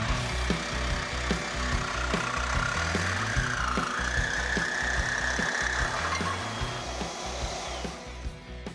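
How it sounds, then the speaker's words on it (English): A Sawzall reciprocating saw cuts steadily in a custom car garage, a loud continuous rasping drone with a fast chattering rhythm that runs throughout and eases slightly near the end. "You know why I always win the Sawzall race?"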